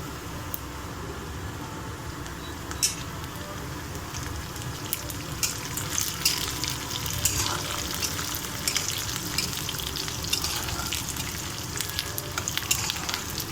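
Onions and curry leaves fry in a pan for sabudana khichdi, giving a steady close sizzle with occasional faint clicks of a spoon against the pan, and no voices.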